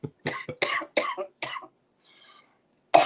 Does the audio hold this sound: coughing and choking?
yes